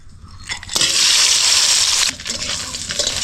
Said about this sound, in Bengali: তেল গরম হয়ে গেছে এবার মাছ ভেজে নেবো